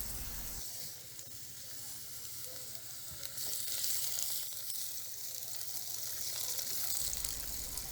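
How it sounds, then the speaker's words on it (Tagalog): Garlic and onion sautéing in hot cooking oil, a continuous bright crackling sizzle that swells slightly partway through, close and steady with no talk over it. "Igisa na to ang onion and garlic hantod mo gawas ang iyahang antod humot siya"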